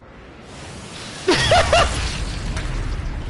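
A grenade explodes in the video game Sniper Elite Resistance, a sudden loud boom with a quick follow-up burst over low background game ambience, then a rumbling tail.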